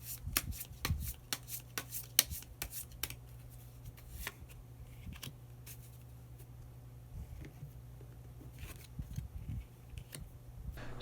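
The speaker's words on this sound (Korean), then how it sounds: "마지막으로 히든 카드 한 장 더 뽑아보도록 하겠습니다" Tarot cards are shuffled and drawn, a rapid series of crisp close riffles and snaps at the start that thins into scattered soft card slides and taps against a quiet background.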